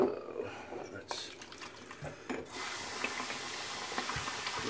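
Shaving brush rinsed under a running tap, a steady hiss of water that swells after a few seconds, with someone speaking softly over the flow at the start.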